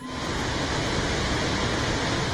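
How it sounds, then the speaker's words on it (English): Roaring water of Murchison Falls on the Victoria Nile, a powerful waterfall, heard as a dense, steady rush that fills the whole clip, loud and unchanging with no voices. "Murchison Falls is a waterfall between Lake Choga and Lake Albert on the Victoria Nile"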